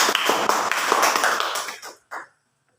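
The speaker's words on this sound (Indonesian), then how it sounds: "Bagus, tepuk tangan dulu." Children clapping together in a classroom, a close burst of brisk, uneven hand claps that thins out and stops, followed by one short final clap.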